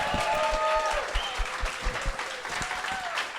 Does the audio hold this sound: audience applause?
yes